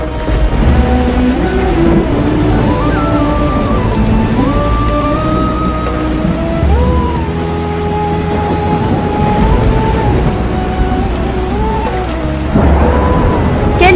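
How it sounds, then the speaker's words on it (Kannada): Heavy rain pours with thunder during a flooding downpour, a loud, dense, continuous roar throughout, with rumbling swells and a tonal, music-like layer running underneath. "ಇದೀಗ ಶುರುವಾದಂತಹ ಮಳೆ ಯಾವ ಪರಿ ಹೊಡಿತಾ ಇದ್ರೆ ಅಂದ್ರೆ ಜನರ ಜೀವವೇ ಹೊರಟು ಹೋಗುವಷ್ಟು ಭಯಾನಕವಾಗಿದೆ"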